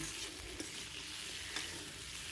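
Boiled potatoes and browned raw jackfruit fry in oil in a pan, a faint steady sizzle with a couple of light tool taps, heard close and alone.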